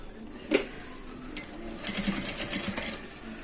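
Sewing machine stitching pieces of backpack fabric together, a single click followed by a short, close burst of rapid mechanical stitching, with no voices.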